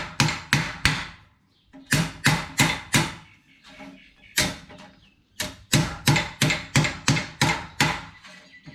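Hammer and dolly shaping sheet metal on a 1951 Chevy headliner tack plate: bursts of sharp metallic blows in quick rhythmic runs of three to six strikes, close and loud, with short pauses between runs.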